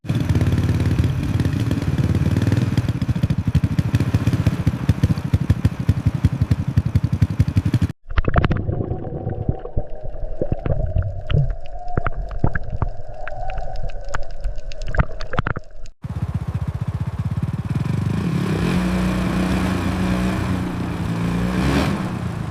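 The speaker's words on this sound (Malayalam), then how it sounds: "ഇങ്ങനെ ഞാൻ ബൈക്ക് ഓടിക്കുന്ന സീൻ കണ്ടോ?" A motorcycle rides through a scene in a 2015 Malayalam short film. Its engine rumbles loudly and steadily the whole time, with a brief cut midway into a rougher, clattering stretch before the steady drone returns.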